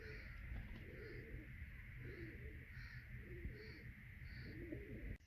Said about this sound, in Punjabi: ਆ ਕਬੂਤਰ ਦੇਖੋ ਜੀ ਆਪਣਾ